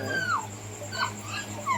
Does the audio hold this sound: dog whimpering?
yes